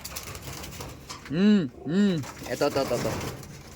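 Two clear rising-and-falling bird coos sound close by, followed by softer chirps and rustling against a low background murmur.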